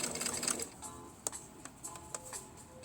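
Sewing machine stitching clothes, a faint mechanical whir with irregular ticks and clicks, briefly louder at the start and then running in short bursts.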